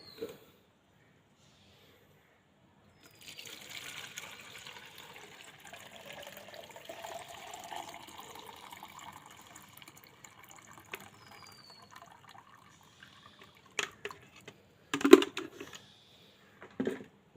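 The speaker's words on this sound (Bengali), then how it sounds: "একটা ছাঁকনির সাহায্যে কিন্তু আমরা এটা ঢেলে নেব।" Homemade liquid plant fertilizer for hibiscus is poured through a strainer into a container, a soft trickling splash that runs for several seconds and then gives way to a few sharper knocks and clatters near the end.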